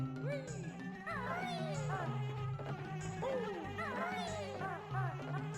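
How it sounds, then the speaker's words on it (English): Bees buzz steadily in Banjo-Kazooie, a continuous insect drone running the whole time beneath bouncy, melodic game music. "listen to nothing but bees for the next couple minutes"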